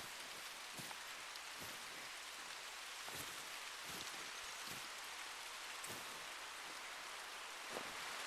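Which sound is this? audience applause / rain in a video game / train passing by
rain in a video game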